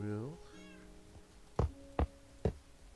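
A video-game cat meows at the start, followed by three sharp, evenly spaced knocks or thumps over a faint hum.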